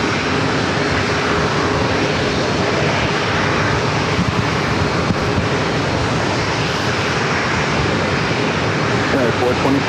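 A plane takes off at San Diego airport: a loud, steady roar of jet engines fills the whole clip, with radio chatter faintly over it.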